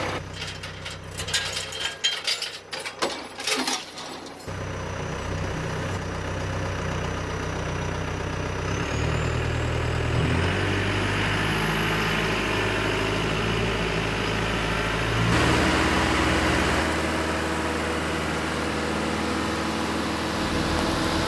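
A dump truck loaded with a two-row planter pulls away: a few seconds of rattling, clanking mechanical noise give way to a steady, loud engine drone with a rising whine as it moves off.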